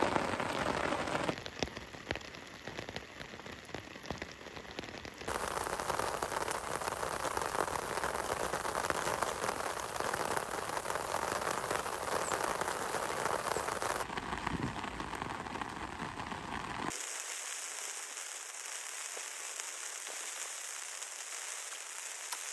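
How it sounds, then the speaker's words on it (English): Heavy rain drums on a poncho shelter overhead, a dense, loud, continuous patter that shifts in intensity, with no voices. "the sound of the rain hitting the poncho"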